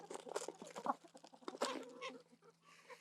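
Farmyard hens cluck in short, soft bursts around a straw-bedded coop, several birds calling close by at a low level with irregular pauses between calls.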